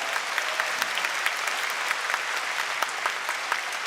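A concert audience gives dense, steady applause throughout, many hands clapping together in a large hall with no voices rising above it.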